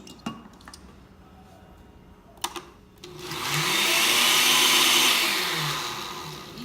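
A kitchen blender whirs loudly for about three seconds, swelling and then easing slightly, as it mixes chickpea bread batter with salt, following a few light clicks and taps.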